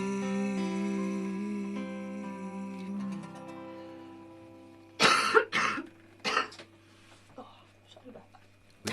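Several sharp coughs in a row, close and loud, following a fading sustained musical tone.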